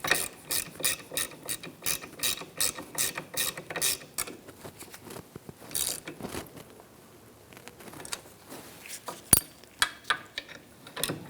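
A ratchet clicks in quick repeated strokes while tightening a bolt during rear parking brake cable work on a 2002-2006 Honda CR-V, close and fairly quiet, pausing midway before a few more scattered clicks and metallic taps.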